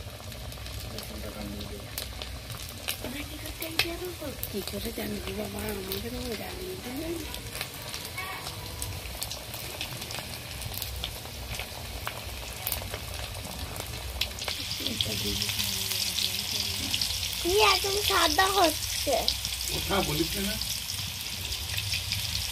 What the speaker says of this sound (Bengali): এবার আমি পকোড়াগুলো একটা একটা করে ভেজে নেব